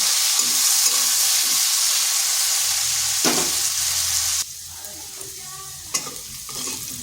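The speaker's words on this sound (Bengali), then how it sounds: "এরপর আলুটাকে একটু ভেজে নেব।" Long potato strips coated in salt and turmeric fry in oil with a bright, steady hiss that drops off suddenly partway through, leaving a quieter sizzle with a few clicks and a utensil knock.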